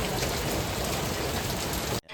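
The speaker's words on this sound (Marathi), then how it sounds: "आणि खूप जोरात पाऊस पडतो आहे" Heavy rain pours in a dense, steady hiss on surfaces for about two seconds with no voices, then cuts off abruptly at the very end.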